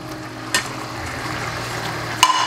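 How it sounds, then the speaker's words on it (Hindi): Chicken karahi with tomatoes sizzles softly in a pan as a spoon scrapes and stirs the mix, with a couple of brief clinks over a steady low frying hiss. "टमाटर को अच्छे तरीके से मिक्स करना है"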